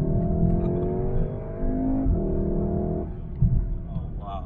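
A VW Golf 7.5R hot hatch with all-wheel drive accelerates hard, its engine note rising in steady harmonic sweeps over a low rumble, loud and close, with a brief gear change around the middle.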